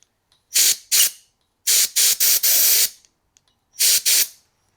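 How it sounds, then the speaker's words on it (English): Sharp bursts of compressed air hiss through the oiler passages of a Stihl 009L chainsaw, in short blasts of roughly half a second each, grouped in twos and fours with silent gaps between. "let's see if I can blow a bit of air down some of these little passages"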